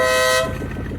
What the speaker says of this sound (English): Here's that auxiliary horn. It's an air horn.